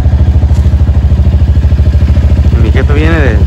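A motorcycle engine chugs loudly and steadily up close, with a rapid pulsing beat and some rattly clatter, and a brief voice-like sound rising near the end.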